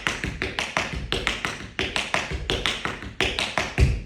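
Rapid tap dance steps in quick, even groups of four, crisp shoe strikes repeating in a steady rolling rhythm, close and clear with no voices.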